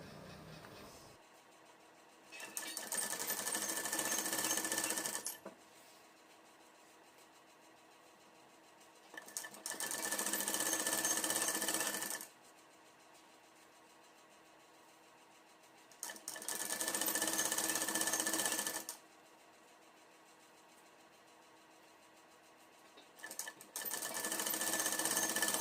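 Sewing machine stitching a folded fabric strip for a Madhubala-style dress, running in four steady bursts of a few seconds each with quiet pauses between, close and clear with no talking.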